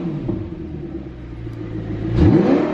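An Audi R8 engine growls at a low idle through an app-controlled exhaust with its valves open, then gives a louder rev that rises and fades, heard close with no talk.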